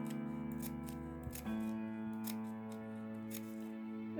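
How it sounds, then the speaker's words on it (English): Scissors cut down a folded sheet of paper for paper flowers, giving several close, rhythmic snips over a steady background hum. "with our scissors, we're just going to cut down to the tape."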